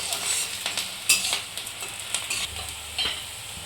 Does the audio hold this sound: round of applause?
no